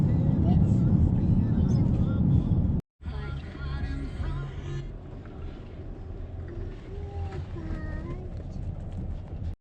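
A John Deere 7720 tractor rumbles nearby as it pulls in after the drive home, its engine note cutting out briefly before resuming at a lower, uneven idle while people talk over it.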